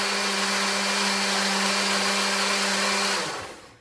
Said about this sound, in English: So this blender has a setting for liquefied.